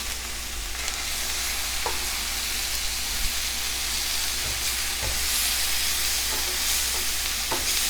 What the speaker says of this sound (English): I just placed it in my cast iron pan and I'm going to flip it in about 2 to 3 minutes and sear the other side